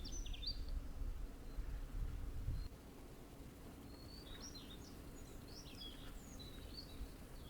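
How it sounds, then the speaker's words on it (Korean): Small birds chirp and whistle in short high bursts in Naksan Park, Seoul, fairly distant over a constant low hum of city background noise. "저렇게 새소리가 되게 이뻐서 잠깐 찍었던 거고"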